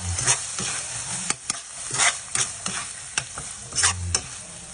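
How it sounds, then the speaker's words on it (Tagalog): Tuna sisig with corn and mayonnaise stirred in a frying pan, a steady sizzle broken by repeated scraping strokes of a utensil against the pan, close and fairly loud, with no voices. "Tapos haluin natin sa ulit."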